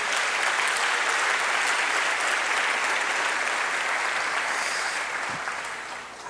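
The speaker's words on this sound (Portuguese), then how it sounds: "Vamos dar um aplauso bem forte ao Senhor Jesus" Loud, sustained applause from a large church congregation fills the space, steady throughout and tapering slightly at the end.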